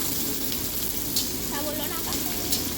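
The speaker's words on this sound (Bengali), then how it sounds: "কাঁচা পেঁয়াজগুলো খুন্তি দিয়ে ভালো করে নেড়ে চেড়ে ভাজতে হবে" Raw onions frying in hot oil while being stirred with a spatula for chilli chicken fried rice, a steady close sizzle with a few brief scraping and tapping sounds over it.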